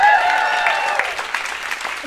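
Comedy club audience breaks into a short burst of clapping and cheering, loud and close, fading after about two seconds.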